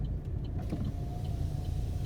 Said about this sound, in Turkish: camımızı da kapatalım da